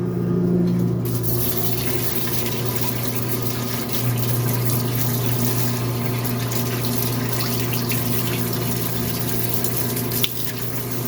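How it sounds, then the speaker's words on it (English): A parts washer in a shop sprays solvent over parts from a 1985 Mercedes 300D, making a steady, loud continuous liquid rush with a pump hum underneath, running alone throughout with a small knock near the end. "let's go ahead and open the parts washer and clean this up a little bit with parts washing solvent"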